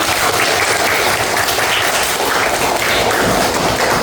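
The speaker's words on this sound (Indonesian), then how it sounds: "tepuk tangan buat kita semua" A classroom full of people claps together in dense, steady applause lasting a few seconds, loud and close, with no talk over it.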